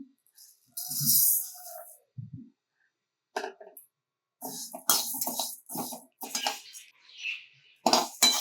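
Black urad dal roasting in a pan for traditional millet idli podi, heard as scattered clinks, taps and scraping stirs in bursts with short pauses between them, close and moderately loud, with no talking.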